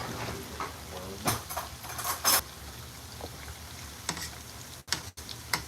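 French fries for poutine fry in hot oil with a steady crackling sizzle, broken by clinks and scraping stirs of a utensil against the pot, heard up close.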